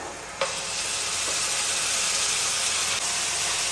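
Food frying in a pan for a fish and cauliflower dish, a continuous close sizzling hiss with a small bump near the start and no talk.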